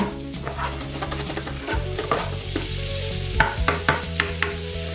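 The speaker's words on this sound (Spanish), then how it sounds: "rehogar estos dientes de ajo que hemos cortado pequeñitos. ¿Os acordáis? Los añadimos y los freímos, los rehogamos." Finely chopped garlic cloves frying in oil in a pan for a Spanish fish rice, a continuous busy sizzle with repeated sharp stirring scrapes and taps throughout, close and clear.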